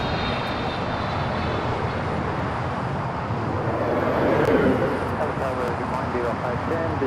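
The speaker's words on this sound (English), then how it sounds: "Air New Zealand making that left-hand turn onto taxiway Lima" An Air New Zealand airliner taxiing at Los Angeles airport, making a left turn onto a taxiway, gives off a steady, broad jet-engine rumble and whine that swells briefly, with voices faintly underneath.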